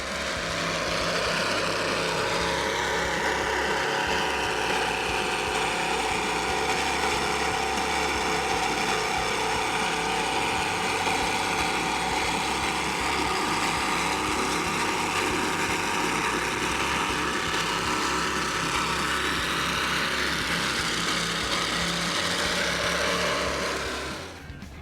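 A racing powerboat's engine, the 36 Team YAHOO boat from Texas at the 2022 Key West Poker Run, gives a loud, steady roar that holds for about 25 seconds with no talking.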